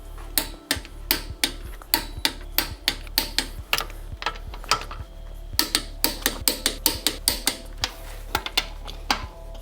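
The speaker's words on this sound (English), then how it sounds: "we're gonna torque the wheels to spec now" A torque wrench ratchets on the wheels of a Mk7 VW GTI being tightened to about 90 pounds, giving close, sharp, evenly paced clicks in two long runs with a short pause between.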